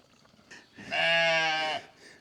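Sheep on a small farm bleat once in a long, loud, close call lasting under a second, with quiet rustling before and after and no talk.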